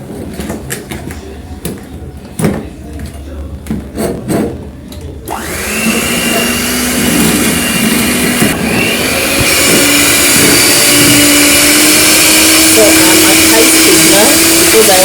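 An electric mixer starts up partway through and runs with a steady high whine as it beats cake batter for a dragon fruit cake, after some clattering and handling noises in the kitchen.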